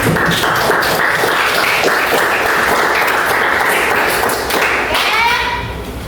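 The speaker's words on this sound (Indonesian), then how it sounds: "Kita beri aplaus untuk kelompoknya" Classroom applause for a student group, a dense burst of hand clapping from many pupils that carries steadily for several seconds before thinning out, with faint children's voices mixed in.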